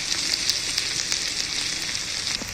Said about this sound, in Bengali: তেলের মধ্যে পেঁয়াজটা কিন্তু আমার ভাজা হয়ে গিয়েছে আর সামান্য একটু ভেজে নেব